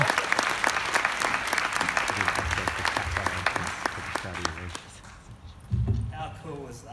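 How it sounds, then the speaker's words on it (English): A large forum audience applauds for the humanoid robot Sophia on stage, loud sustained clapping with cheering voices that gradually fades, then a speaker talks as it dies away. "can we give a huge round of applause to Sophia,"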